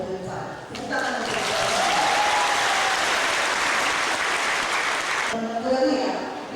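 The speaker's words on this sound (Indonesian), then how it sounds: "Tepuk tangan untuk" Sustained applause from a student audience at a university faculty welcome event, rising quickly, holding steady for several seconds, then cutting off as a voice resumes talking.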